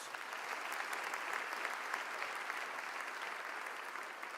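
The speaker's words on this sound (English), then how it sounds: "Let's give them a round of applause." Applause from the audience at a community address in Macon-Bibb, a steady moderate patter of many hands lasting the whole stretch, heard at some distance with no talk over it.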